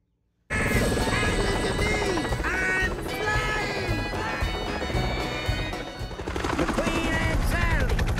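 The Dinoco helicopter in an animated Disney Pixar Cars racing scene rotors steadily and loudly throughout, a dense continuous roar with layered engine tones, accompanied by other animated sound effects and brief clattering.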